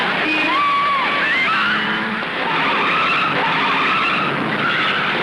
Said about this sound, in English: During the GT heydays, there were some spectacular crashes at Bathurst, including this horrifying flip at Skyline.